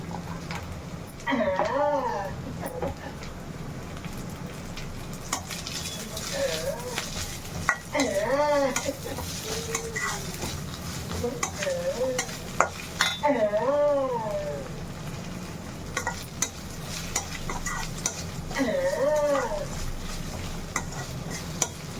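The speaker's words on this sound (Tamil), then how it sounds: "சால்ட் போட்டு நல்லா ஒரு 5 நிமிஷம் நல்லா கலரி விடுங்க" Food being stirred as it fries in a pan for prawn gravy, with a steady low sizzle and repeated scraping and clinking of a utensil against the pan, while someone talks over it.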